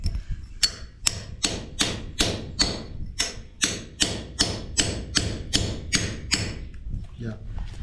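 A hammer drives a cold chisel into concrete around a broken pipe, making a steady series of sharp, ringing strikes about twice a second close by.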